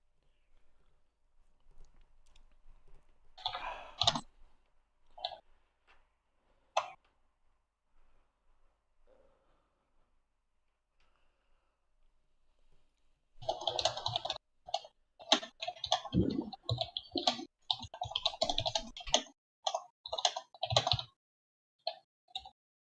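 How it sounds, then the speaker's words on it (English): Typing on a computer keyboard during a tabletop role-playing session: two bursts of clicky keystrokes, a short patter early on and a longer, denser run of rapid taps near the end, with quiet gaps between and no talk. "Excuse my complete lack of typing skills. Even on a good day, I can't type for shit."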